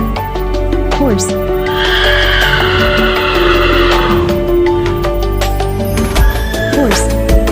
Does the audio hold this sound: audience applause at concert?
no